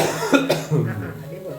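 A couple of quick, sharp coughs up close, followed by a softer trailing vocal murmur.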